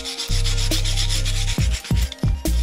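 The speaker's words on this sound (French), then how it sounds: "on enlève toute la mousse avec la brosse métallique pour que le ciment puisse bien accrocher" Wire brush scrubbing moss off rough stones to prepare them for cement, a steady close scraping rub broken by a few short pauses between strokes.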